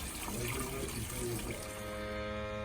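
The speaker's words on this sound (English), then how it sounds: "We've just got chemicals coming out of there now. Just running them down drain." Water carrying flushing chemicals out of a Baxi 830 combi boiler system runs steadily down a drain as a continuous rushing flow, with a faint hum underneath.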